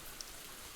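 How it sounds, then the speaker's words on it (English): Steady rain hisses in the Gleaner Heights video game, an even, close wash of falling drops with one tiny blip near the start and no voices. "the rain sound effect appears to exist on the same audio layer as the music"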